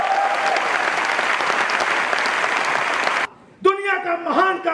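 A large audience breaks into loud, dense clapping for about three seconds, then cuts off abruptly, and a voice starts speaking right after.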